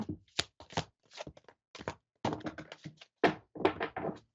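A string of short papery riffles and taps, several quick bursts with brief pauses, close and fairly quiet, like a deck of cards being shuffled.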